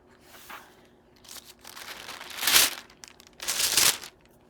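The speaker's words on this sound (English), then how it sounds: "Got this little tissue paper." Tissue paper crinkles and rustles up close as a boxed John Coltrane live record set is unpacked, with several short bursts that swell louder toward the end, separated by quiet pauses.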